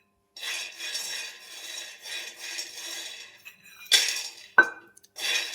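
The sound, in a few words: peanuts being roasted in a kadhai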